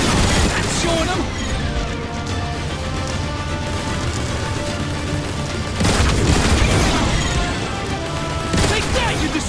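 Turret gunfire and explosions in the Transformers: War for Cybertron video game, with dense rapid bursts of shots and booming blasts layered over game music, loud and continuous, with brief character voices shouting.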